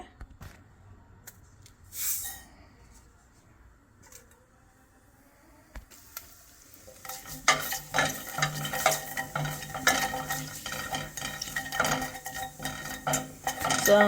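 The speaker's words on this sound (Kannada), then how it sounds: "ಜೀರಿಗೆ ಮತ್ತು ಸಾಸಿವೆ ಸ್ವಲ್ಪ ಹೊಟ್ಟಿದ ಮೇಲೆ, ಸಾಸಿವೆ ಮೇನ್ಲಿ ಹೊಟ್ಟಬೇಕು" Mustard seeds and cumin crackle and pop in hot oil in a pan, starting sparse and quiet, then building into a dense, steady spluttering with a few sharp clinks of a utensil.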